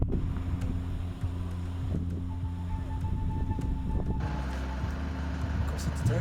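Steady headwind buffets the microphone on a bikepacking trip, a continuous low roar and rumble with road noise, close and unbroken throughout.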